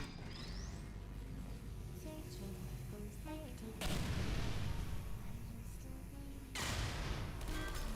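Sharp explosive blasts ring out in Portal 2 as turrets blow up, two loud bangs a few seconds apart over ongoing game sounds, with tonal robotic chatter before them.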